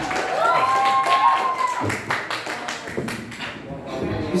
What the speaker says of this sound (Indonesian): Tepuk tangan dulu buat Syahrul ya